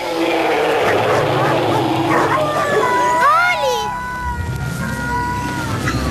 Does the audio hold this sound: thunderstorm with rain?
no